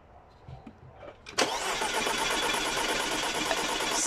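A car engine cranks over rapidly on the starter during a compression test, a fast rhythmic churning that begins abruptly after quiet handling noises and continues evenly, close and loud.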